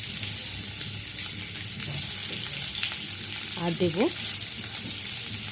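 Cut potatoes frying in a pan, a steady loud sizzle throughout, with a few brief spoken words near the end.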